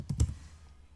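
A couple of sharp keystroke clicks on a computer keyboard, close and fairly quiet, followed by a faint trailing hush.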